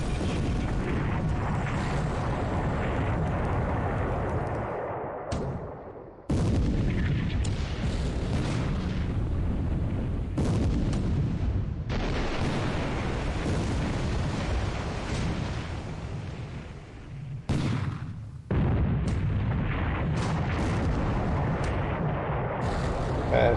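Naval gunfire in War in the Pacific during the Japanese offensives of December 1941, with 12 centimeter guns: a long stretch of rumbling booms and blasts, loud and dense, broken by a few brief drops in volume.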